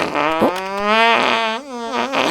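A long, loud, buzzing fart rises and falls in pitch over about two seconds with a brief break near the end, close and clear, with no talk over it.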